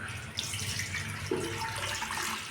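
Water pours in a steady stream into a pot, a continuous splashing rush with slight changes in tone as it fills.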